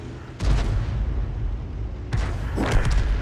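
Two heavy tank-gun blasts boom out in World of Tanks as a round strikes a Jagdtiger, each followed by a rolling rumble over a steady low battle drone. A voice speaks faintly underneath.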